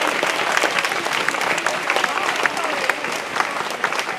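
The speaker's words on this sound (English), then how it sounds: "Can we have another round of applause?" Loud, dense applause from a crowd at a nature-restoration gathering after a song, continuous and close for the whole stretch.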